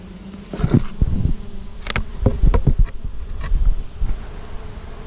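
Honey bees at an opened hive drone loudly and close by. Individual insects swell past the ear in uneven bursts over a steady buzzing hum, with no voices.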